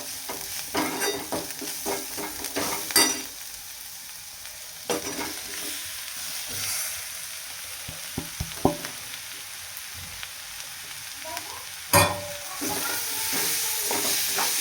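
Potatoes frying with onion and turmeric in a pan for a dry potato bhaji, a soft steady sizzle with occasional spatula scrapes and knocks, louder stirring bursts near the start and end, no talking.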